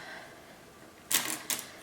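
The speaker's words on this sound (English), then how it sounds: "go ahead and cut them with some scissors" Scissors snip through tassel threads for earrings, two crisp, short cuts close by after a quiet pause, with no talking.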